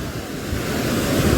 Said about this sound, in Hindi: पानी का बहाव देखो एकदम तेज